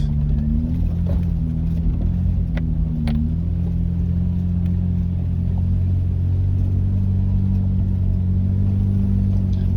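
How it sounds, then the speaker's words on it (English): 4WD vehicles climbing a loose, gravelly, rocky hill, with a steady low engine drone and rumble throughout, close and continuous. "And both vehicles handling that little climb quite comfortably."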